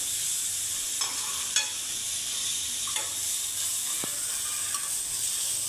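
Ginger, garlic and chili sizzle steadily in hot oil in a pan for vada pav, a constant close frying hiss broken by a few clicks and taps as the mix is stirred.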